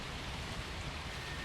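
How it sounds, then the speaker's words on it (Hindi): Sudden heavy rain falling on a house during a storm, a steady, dense hiss of downpour with no breaks, heard alone and fairly loud. "अब बारिश अचानक आ गई"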